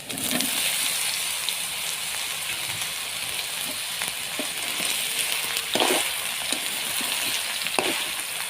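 Milk is added to browned onions frying in a pan, producing a steady, close sizzle with soft bubbling and occasional stirring clicks throughout.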